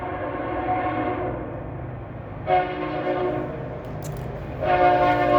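A train rumbles past steadily, with two loud horn blasts sounding midway and again near the end.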